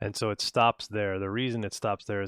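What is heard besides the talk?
No distinct noise like a dog, phone or traffic.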